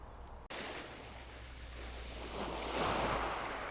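Surf breaking on Slapton's shingle beach, a steady broad wash of waves that swells louder toward the end, with wind buffeting the microphone and no voices.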